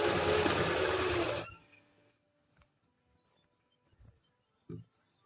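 Sewing machine stitching palazzo pants, a loud continuous whir for about a second and a half that stops abruptly, followed by near silence with a few faint clicks and taps.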